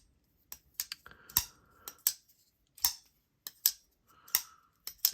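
Sharp clicks and clacks from a button lock being worked by hand, irregular snaps scattered across a few seconds, close and fairly quiet, with a brief ringing ting among them.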